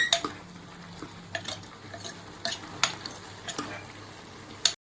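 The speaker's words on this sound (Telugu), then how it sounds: "కర్రీని మొత్తం బాగా కలిపేసుకోవాలండి." Chicken curry with masala being stirred in a pan, a spoon scraping and clinking against the metal at irregular intervals over a soft, steady sizzle, close up with no talking.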